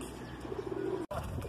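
Large high-flying competition pigeons in Jodhpur, Rajasthan, cooing in a low, steady murmur close by, with a brief sharp break near the end before the cooing resumes.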